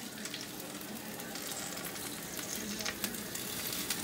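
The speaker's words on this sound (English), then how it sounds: "Look at that sizzle." Steady crackling sizzle of food frying in a pan, close and continuous, with faint stirring sounds and no talking.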